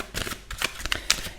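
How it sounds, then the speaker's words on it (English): Tarot cards are given an extra hand shuffle, a quick run of close, crisp riffling flicks and soft slaps in uneven bursts, with no one talking. "I feel like giving a little bit of an extra shuffle"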